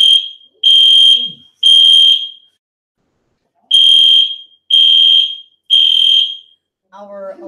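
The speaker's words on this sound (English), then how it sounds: "Our alarm," A sensitive fire alarm sensor goes off during a public lecture, sounding five loud, evenly spaced electronic beeps with short gaps between them, and a voice begins speaking just after the last one.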